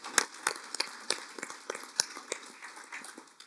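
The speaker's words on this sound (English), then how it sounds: "Let's give a round of applause." Sparse clapping from a small audience at a corporate CEO talk, a scattered run of individual sharp claps spread across a few seconds, fairly close, without cheering.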